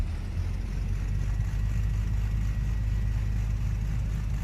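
Turbocharged Grand Duke aircraft engine in a flight simulator running steadily at about 1,000 RPM, a continuous low throbbing drone at even loudness throughout, with no voices.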